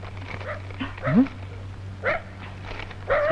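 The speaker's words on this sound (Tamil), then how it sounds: "நாய் சீசர் கொலையாளியை கண்டுபிடிக்க மதுரையிலிருந்து விரைந்து வருகிறது" A dog barks in a Tamil comedy scene, giving several short, sharp yaps and whimpery barks spaced about a second apart, close and clear over a low steady hum.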